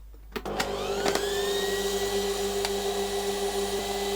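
The motor of a Shardor 64mm flat burr coffee grinder spins up and runs without load, with an empty open chamber. A few clicks come first, then a steady, close electric whine with a constant pitch. No voices.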